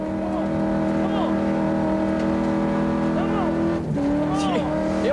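V8 Ford Mustang race car climbing Pikes Peak, engine droning and revving at a steady distance with pitch rising and falling through gear changes, under commentary.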